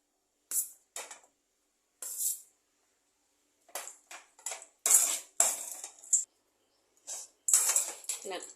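Coconut rice being mixed in a pan with a spoon, giving sparse scraping and clinking strikes in irregular bursts with quiet pauses between, close and fairly crisp.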